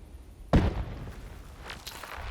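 Fuel barrel exploding in Crysis: a single sharp, close blast that decays into rumbling debris and faint game ambience, with no one talking.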